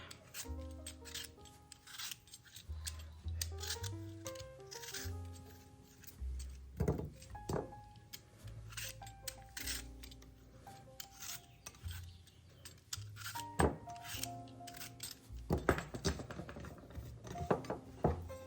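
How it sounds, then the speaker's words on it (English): Apples being lightly peeled, with short rasping scrapes of the peeler against the skin coming in uneven bursts, quiet and close, with no voices. "You don't have to peel if you don't want to. I'm just doing a light peeling here."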